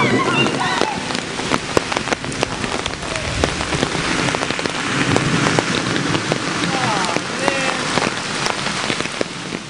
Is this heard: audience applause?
no